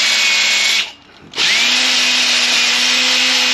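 A power tool spins loudly against a rusty brake surface on a 2015 Ford Flex front axle, steady whine cutting out for about half a second then resuming at full strength, close and alone.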